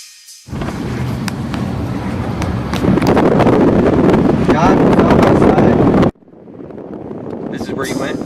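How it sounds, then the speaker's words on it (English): Strong gusting wind near an approaching wildfire batters the microphone in a loud, steady roaring rumble that swells, cuts off abruptly, then returns slightly softer. "Oh my god, the winds are picking up here now"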